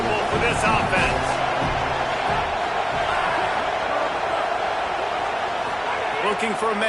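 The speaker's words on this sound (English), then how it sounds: "This crowd trying to make life miserable for this offense." A stadium crowd at a USC college football game roars steadily with dense, continuous noise, while a commentator talks over the cheering.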